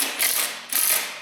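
A ratchet clicks in two quick bursts while tightening a bolt that draws the torque converter toward the flywheel of a 2005 Pontiac Vibe 1.8, close and crisp with no talking.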